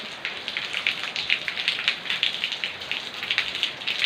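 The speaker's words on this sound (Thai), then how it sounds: "ก็จะเห็นว่าฝนก็ตก" Rain pours down in a constant wash of hiss, with drops pattering and splashing on a nearby surface outside a house front in Takui, Surin, Thailand.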